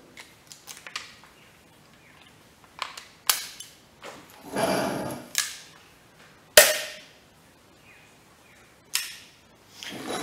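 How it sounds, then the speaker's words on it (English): Revolver firing only a cartridge primer, a muted pop among a series of scattered sharp clicks and brief handling noises, with one standout snap midway; close by, with no talk. "I'm going to fire, as must have happened at some stage between it being loaded and Brandon Lee getting shot"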